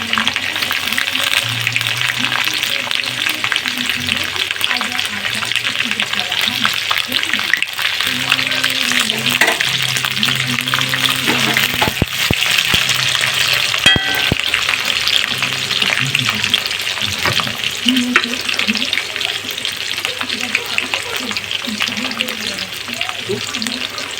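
Dry chilli chicken fries with capsicum in a pan, a steady loud sizzle punctuated by stirring scrapes and clinks, with a voice speaking faintly underneath at times.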